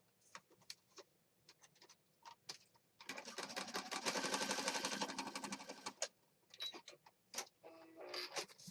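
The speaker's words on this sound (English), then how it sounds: "I'm just going to stitch across" A sewing machine stitches across a junk journal page in a steady whirring run of about three seconds, framed by scattered clicks and taps of handling the paper before and after.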